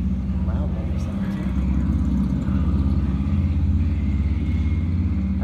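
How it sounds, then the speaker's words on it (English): A motorcycle passes outdoors at dusk, giving a steady, fairly loud low engine rumble that holds throughout the few seconds without a clear peak. "A motorcycle going by."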